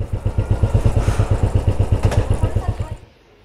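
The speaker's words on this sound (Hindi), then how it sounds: "बाइक अंदर लगा दूं?" A Royal Enfield Classic 500 motorcycle idles close by with a steady thumping beat for about three seconds, then cuts off abruptly, with a voice speaking over the engine.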